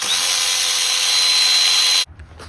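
Power drill or impact tool running on the 13 mm starter power wire nut of a VW Jetta Mk5 during manual transmission removal, one loud steady whine for two seconds that cuts off abruptly, followed by faint clatter.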